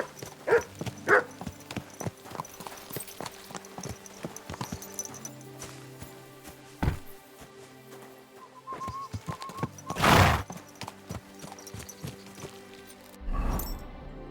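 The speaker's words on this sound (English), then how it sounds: "What a beautiful horse." Clip-clop of horse hooves in the medieval open-world game Kingdom Come: Deliverance II, a steady walking rhythm over ambient game sounds with a few louder bursts and a possible brief whinny.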